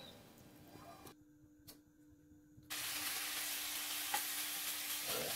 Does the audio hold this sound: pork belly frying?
yes